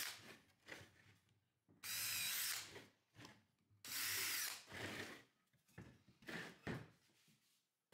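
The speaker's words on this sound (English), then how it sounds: "You drill holes on the four sides of inside the table." A power drill bores holes into the inside of a wooden table in several short bursts, whirring loudly for a second or two at a time with quiet pauses between.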